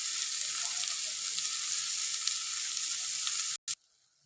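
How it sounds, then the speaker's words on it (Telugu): Ivy gourd (dondakaya) frying in oil over a medium flame gives a steady, close hiss of sizzling that cuts out abruptly near the end. "ఇప్పుడు చూడండి, దొండకాయ అయితే ఇట్లా ఫ్రై అవుతుంది కదా ఆయిల్లో."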